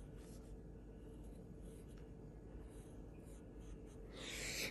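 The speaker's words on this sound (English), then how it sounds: "I'm going to draw two little circles." Pen or pencil drawing small circles on paper, a faint continuous scratching close by over low room noise, getting slightly louder near the end.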